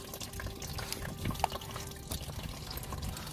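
Coolant draining from the radiator of an MA70 car, a steady trickling flow of liquid with faint splashes and drips, close and continuous, no voices.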